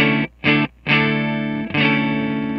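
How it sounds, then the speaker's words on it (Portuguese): Clean electric guitar played through a Fender amp simulator on a Helix multi-effects unit, with no delay or reverb: a few sustained chords with short gaps between them, loud and up front, with no talking. "E o som do amplificador tá assim, ó."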